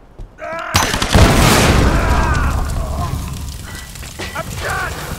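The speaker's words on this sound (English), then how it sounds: "He's shooting at us!" Gunfire in Tomb Raider (2013) erupts with one sudden loud blast, followed by a long rumbling roar that slowly fades, while a voice shouts before and after the shot.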